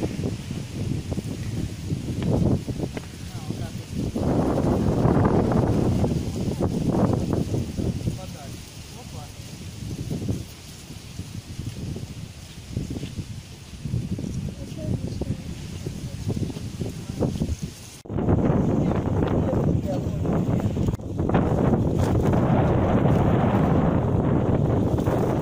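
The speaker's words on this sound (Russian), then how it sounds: "ветер сегодня, он как раз туда и будет все уносить" Outdoor wind buffeting the microphone on an April day in the countryside near water during a fishing outing, a steady broadband rush with gusty swells throughout, loud and close, with people talking over it at times.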